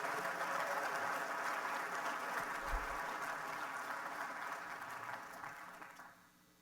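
A conference audience gives a long, steady round of applause that holds at full strength before tapering off at the end.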